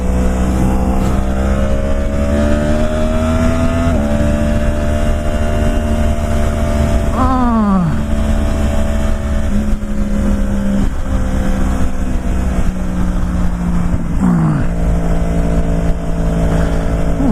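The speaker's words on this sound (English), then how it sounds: "Motorcycles." Motorcycles passing on a road, heard as a steady loud engine drone with rising and falling tones as bikes go by, continuous throughout with no talk.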